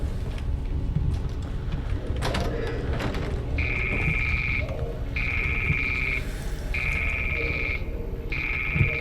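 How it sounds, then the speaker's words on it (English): Old-style telephone in the game Fallout London rings in repeated electronic bursts, four clear trills separated by short pauses, loud over a low rumbling ambient game background, with clicking and mechanical noises just before the ringing starts. "let's answer the phone"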